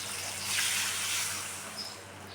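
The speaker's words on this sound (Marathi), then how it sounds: "1 ग्लास भर आहे ना 1च ग्लास पाणी टाकायचं" A glass of water is poured into a pan of drumstick (moringa pod) curry, giving a soft, steady splashing hiss that swells and then tapers off over about two seconds, with no talk.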